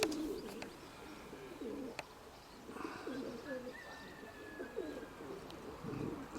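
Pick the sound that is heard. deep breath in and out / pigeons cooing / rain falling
pigeons cooing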